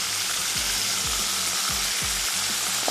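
Beef seekh kababs frying in a pan, a loud, steady close sizzle with regular scraping thumps as they are turned, no talking.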